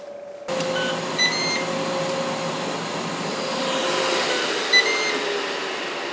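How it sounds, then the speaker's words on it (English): Ninja XL Pro grill and griddle fan whirring steadily while the appliance preheats, a constant close airy hum with a faint tonal whine and two brief soft clicks, no talking. "then the fan will kick on and it will finish preheating"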